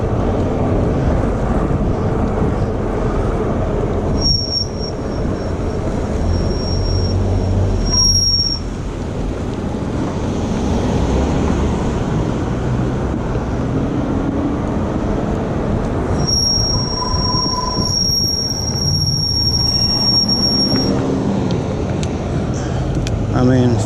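Brakes on a FIIDO T1 electric bike give off two stretches of shrill squealing during a ride, the first short and the second longer, under steady wind noise and tire rumble.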